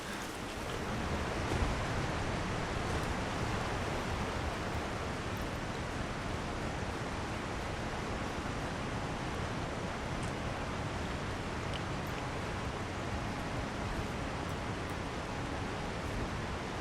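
A waterfall in Elden Ring roars as a constant broadband rush, even and unbroken, fairly soft and heard alone without voices.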